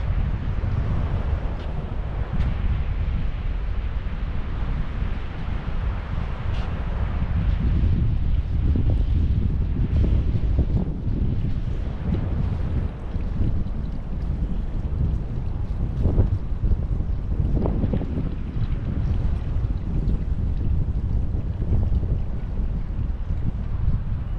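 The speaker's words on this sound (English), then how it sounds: "See, we're back to a lot of wind." Strong, steady wind roars across the open beach at Botany Bay Plantation in South Carolina, a continuous loud rumble with gusty surges and no voices.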